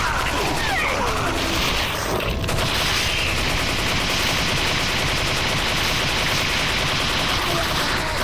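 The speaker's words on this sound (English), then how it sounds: "Oh, somebody's shooting at it." Dense automatic gunfire and crashing impacts in Resident Evil 4 VR's Mercenaries mode with the Chicago Typewriter, a loud continuous barrage that fills the whole stretch with little letup.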